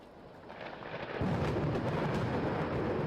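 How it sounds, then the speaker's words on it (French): A distant thunderclap swells into a long, heavy rumble that holds steady, with no voices. "vous entendez au loin un coup de tonnerre"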